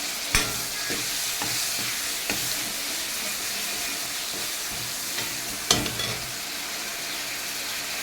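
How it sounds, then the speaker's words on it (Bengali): Onion paste sizzles steadily in a pan with cinnamon, a constant hiss of frying broken by a few sharp scraping stirs, close and fairly loud with no voices. "পেঁয়াজটা কিন্তু আমার অনেকটা ভাজা হয়ে গেছে"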